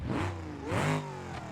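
A car engine in the BeamNG.drive driving game, at risk of over-revving, revs up and climbs in pitch, then settles and surges again, with no talking.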